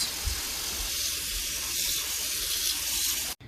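Pot of nettle soup stock returning to a boil, a steady close hiss and sizzle with faint bubbling, cut off briefly near the end.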